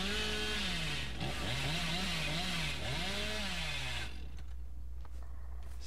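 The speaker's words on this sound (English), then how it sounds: "Survivors outside my terror radius cannot hear my chainsaw." The killer's chainsaw in the video game Dead by Daylight revs with a steady, wavering buzz over a constant engine drone, rising and falling several times before it cuts off into quiet rumble.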